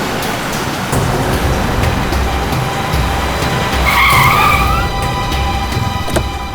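Car chase on a road: a loud engine roars steadily throughout as a car speeds away, with a sharp tire squeal rising in the middle and fading out, no talking.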